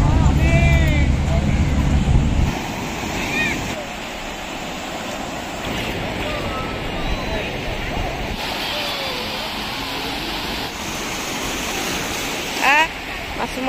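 Sea waves wash onto the beach at Puri, with a loud broadband surge in the first few seconds that then settles into a steady wash beneath continuous talking.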